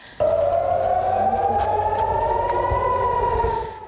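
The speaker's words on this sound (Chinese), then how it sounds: "海法空袭警报响起，以色列人惊慌逃往避难所" An air raid siren wails over Haifa, Israel, a loud, sustained, slowly rising tone that starts abruptly and holds with no voices over it.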